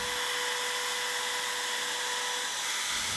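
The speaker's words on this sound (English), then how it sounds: "we're routing out a 2 millimeter 45 degree bevel for the outside edge of this table" A router cuts a small 2 millimeter 45 degree bevel along the outside edge of a wooden conference tabletop, a loud steady high-pitched whine holding constant before easing slightly near the end.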